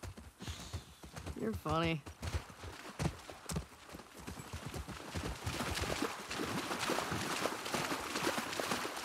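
Horses' hooves clip-clopping on a hard surface in The Last of Us Part II, a rhythmic run of hoof strikes that grows denser and steadier in the second half, with a brief whinny early and people talking throughout.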